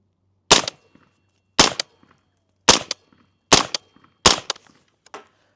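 Five suppressed 300 Blackout rifle shots fired at a range, each a sharp loud crack separated by roughly one-second pauses, with faint clinks between, no talking.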